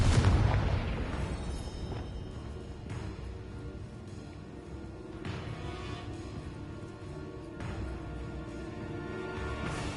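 A Confringo blasting spell from the Hogwarts Legacy video game goes off with a loud boom at the start, and its rumbling explosion decays into a sustained, reverberant tail beneath game music, with further softer bursts following.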